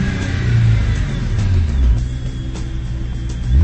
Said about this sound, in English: you can hear how it sounds when you give it some revs